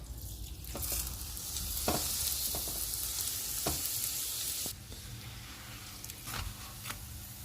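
Aloo paratha frying in ghee on a hot pan gives a steady, fairly loud sizzle, broken by a few sharp clacks and scrapes as the bread is turned. No voices.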